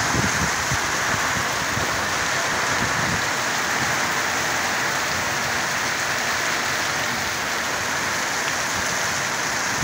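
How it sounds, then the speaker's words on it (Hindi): Heavy, steady rain pouring down in Jhelum, Pakistan, a dense continuous hiss with drops pattering on nearby surfaces throughout, no voices. "बड़ी तेज़ बारिश लगी हुई है।"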